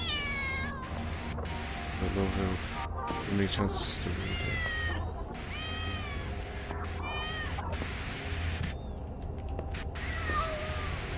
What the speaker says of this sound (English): There's like fourth cat there, so many cats.